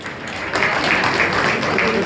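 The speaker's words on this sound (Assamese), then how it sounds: "সকলোকে হাত চাপৰি" Crowd applause fills a political party joining event in Doomdooma, a dense burst of clapping rising after a half-second and sustained, close and fairly loud, with a voice over it.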